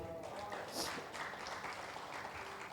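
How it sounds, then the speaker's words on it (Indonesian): A church congregation gives quiet applause during a Sunday service, a soft, distant patter of clapping that stays even throughout, with some background voices. "boleh kasih tepuk tangan buat Tuhan"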